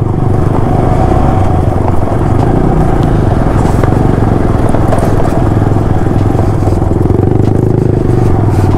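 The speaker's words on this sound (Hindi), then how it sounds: "बाइक ख़राब हो गई है, उसे धक्का मार मार के स्टार्ट करना पड़ रहा है" A broken-down motorcycle sputters and clatters loudly and continuously as it is push-started on a ride to Panikot Lake, with a rough, uneven engine chug and scraping underneath.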